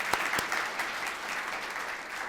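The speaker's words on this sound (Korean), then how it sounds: "CAD & 그래픽스 주최한 분들하고 우리 박수 한번 드리겠습니다" Audience applause at a CAE engineering conference opening, a dense, even wash of clapping from a large seated crowd heard from a distance, with a couple of sharper claps near the start.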